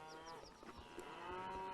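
Cattle moo repeatedly while being moved with horses, their low calls overlapping at a moderate distance in an open outdoor setting.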